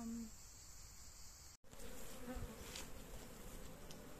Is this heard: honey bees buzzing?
yes